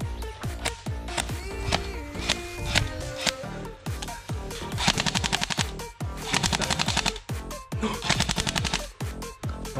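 An electric airsoft M4A1 rifle fires rapid bursts, loud, close, rattling strings of shots separated by short pauses, with no talking over them.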